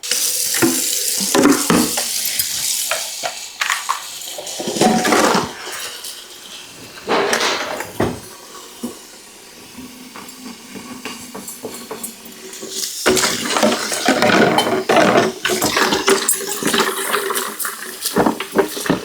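Water filter parts for a water bottle are rinsed under running water, with bursts of splashing and gushing that come and go, loud and close, separated by quieter stretches of handling.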